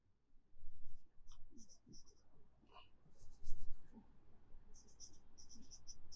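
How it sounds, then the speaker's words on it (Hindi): Marker or chalk scratching across a board during a class 10 chemistry lesson, short bursts of squeaky strokes spaced through the clip, close by, with faint murmuring underneath. "मैं लिख देता हूं,"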